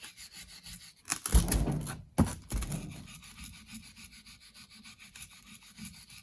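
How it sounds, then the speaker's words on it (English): A small brush scrubs rust off vintage starter motor parts, making short scratchy rubbing strokes, two loud bursts followed by quieter repeated brushing, close and without speech. "So what I do is I take this little brush and just start cleaning them up."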